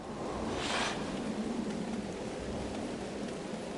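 Steady rain hiss with a low thunder rumble and a brief louder swell early on, a storm in the video game Hades 2, heard alone without talk.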